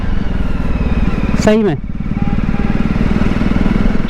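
Jawa BS4 motorcycle being ridden, a steady thumping engine and exhaust note that briefly falls and recovers as a car passes, with someone talking over it.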